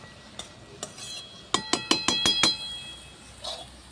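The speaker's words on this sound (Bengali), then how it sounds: "এবার ঢাকাটা দিয়ে দেবো ভালো করে।" A metal lid clatters onto a cooking pot over a clay wood-fired stove, giving a rapid run of five or six sharp clinks and taps, close and fairly loud, with a few softer knocks before and after and no talking.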